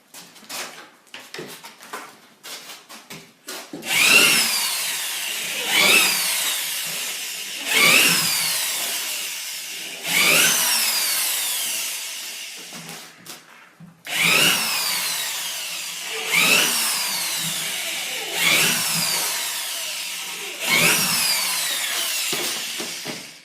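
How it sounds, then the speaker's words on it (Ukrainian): A power drill bores screw holes into a wooden beehive body, with about six close, whining bursts of a couple of seconds each, separated by short pauses and light handling clatter. "І вже прокручуємо дірки тут."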